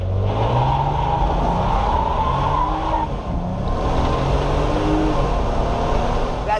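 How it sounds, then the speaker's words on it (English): A 2022 RAM 1500 Big Horn Night Edition pickup's engine roars under hard acceleration with tires squealing and skidding, loud and continuous throughout. "Now let's give it a little send."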